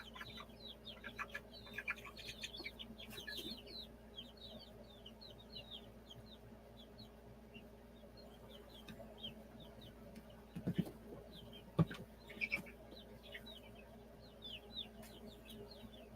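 Chickens clucking inside a coop with a cockerel among them, scattered soft clucks and chirps throughout, a few louder squawks near the middle, faint and close-miked over a low background hum.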